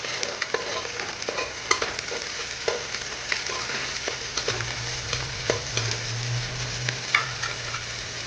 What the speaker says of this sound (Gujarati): થોડા કાપેલા ટમેટા નાખી દઈએ અને આ ટમેટાને થોડુંક એમ સાતળવા દઈએ.